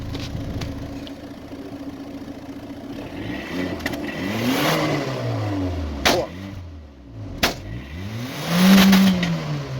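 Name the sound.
car engine revving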